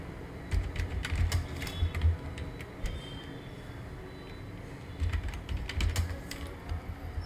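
Typing on a computer keyboard while entering data in Excel: two runs of quick key clicks with a pause between them, close and fairly loud.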